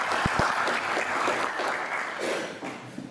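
Audience applause at a youth motivation event, a steady sustained wash of clapping at moderate level throughout.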